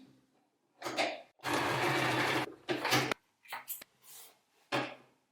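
A sewing machine stitches a seam through fabric with a 5/8 allowance, running in several short bursts of whirring, with a long steady run in the middle and brief pauses and small clicks between them, close and clear.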